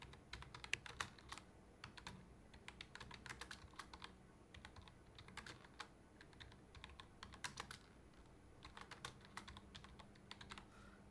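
Someone types a school name on a computer keyboard, a quiet, close run of irregular key clicks in bursts with short pauses, with no talking.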